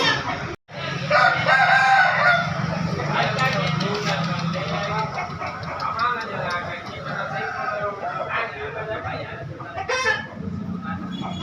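Several roosters crow over one another amid the clucking of caged fowl at a busy chicken market in Makassar, a dense and loud din with voices talking underneath.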